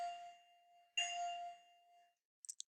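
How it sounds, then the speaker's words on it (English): A clear electronic bell chime rings twice with sustained ringing tones, followed by a few quick faint higher dings at the end, heard alone in a quiet setting. "There's the bells."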